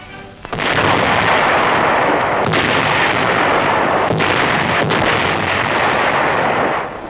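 Captured heavy German Krupp artillery guns, turned around by American troops in World War II, fire shells toward Germany: a loud, continuous battlefield roar broken by several heavy booming blasts.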